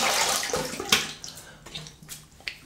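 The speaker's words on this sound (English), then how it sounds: "Let me have a little rinse." A shaving razor, an Edwin Jagger 3ONE6, is rinsed under running water. A splashing gush starts the clip and fades, followed by scattered drips and small splashes as the razor is shaken.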